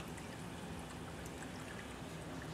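Water drains through a bell siphon in a basement aquaponics tank, a steady close gurgling trickle and rush that holds evenly for a few seconds without talk.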